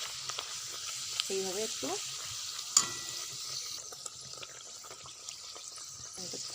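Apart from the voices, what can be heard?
luchi frying in hot oil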